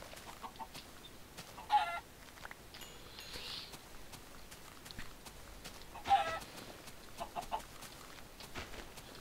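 Chicken clucking in the Minecraft video game, two short clucks a few seconds apart over a low steady game background, no one talking.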